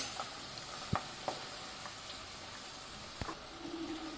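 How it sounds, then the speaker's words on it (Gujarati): Chopped onions sauté in hot oil in a pan, a quiet steady sizzle broken by a few sharp clicks of a spoon or spatula stirring, with no one speaking. "હવે આપણે જે ડુંગળી છે એને સારી રીતે તેલમાં સાંતળીશું"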